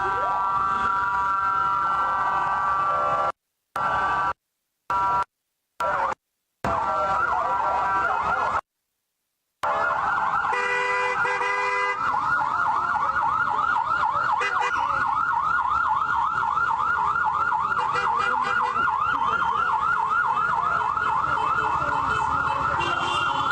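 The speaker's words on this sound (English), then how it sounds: "The siren." An emergency siren at the Gaza-Israel border wails loudly, cut by several short gaps near the start and then holding a steady, rapidly warbling tone for a long stretch, with no talk.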